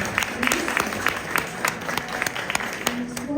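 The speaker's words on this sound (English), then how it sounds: "Let's give another round of applause." Sparse, scattered hand claps from a small audience at a Philippine Artists Group of Canada event, a thin patter of separate claps at moderate distance with no talking.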